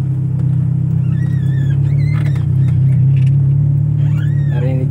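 A 1993 Honda Civic LX ESI with a manual gearbox runs on a test drive, giving a loud, steady low engine drone and cabin rumble, with brief faint voices and small sounds over it.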